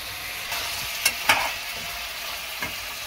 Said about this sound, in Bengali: আমি বয়েল করা আলুটাকে ভেজে নিচ্ছি